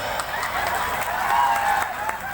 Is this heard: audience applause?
yes